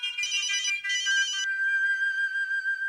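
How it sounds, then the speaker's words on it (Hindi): A mobile phone ringtone plays clearly and close by, a bright repeating electronic melody in two short bursts followed by a sustained tone, with no talking over it. "फोन बज रहा है।"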